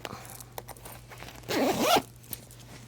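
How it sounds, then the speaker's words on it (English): A zipper on a finished sewn pillow cover is pulled closed in one quick, loud ripping run lasting about half a second, close by, with faint handling noises before and after. "Okay, and then we can zip it up."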